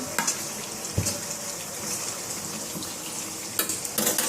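Meat sizzles steadily while frying in a pan and is stirred with a utensil. Scraping strokes of the stirring stand out over the continuous close frying hiss.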